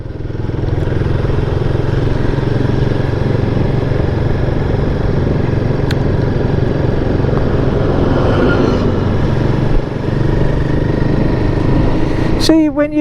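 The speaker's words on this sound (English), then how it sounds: "when you just increase the revs a bit, it's fine" A Royal Enfield Guerrilla 450 engine hums at steady mid revs while riding, a constant close mechanical drone with a light clatter, rising briefly near the end.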